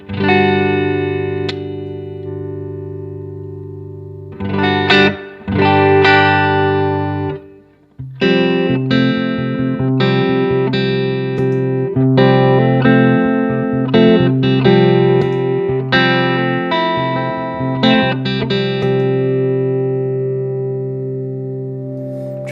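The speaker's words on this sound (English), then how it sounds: "This is a Strymon Flint on the 60s reverb setting." Electric guitar run through a Chase Tone Golden Secret preamp and a Strymon Flint pedal set to 60s reverb: sustained, slightly driven chords and picked notes ring out with a lush reverb tail, loud and close, with no talking.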